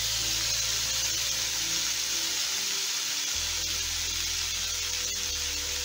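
Chicken pieces fry in a pan over a high flame, a loud, steady, continuous sizzle and hiss with a low hum beneath, close up and without any voices.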